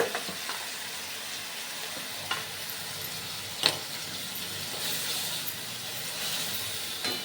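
Okra stir-frying in a pan until brown, a steady bright sizzle and hiss with a few sharp spatula scrapes and pops, close and without talk.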